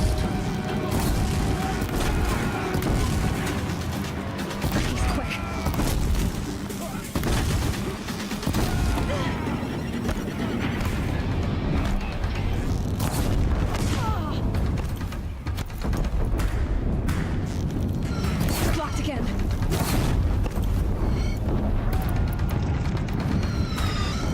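Deathbringer machines in Horizon Zero Dawn pour out heavy, continuous gunfire and booming blasts on a bridge battle, with dense crashes and explosions layered over a rumbling low end and occasional voices.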